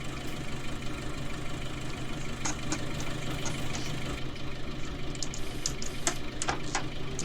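A loader tractor engine idles during bale carting on a farm, a steady close mechanical chug with a faint knocking rhythm running throughout, with occasional light clicks and no talk.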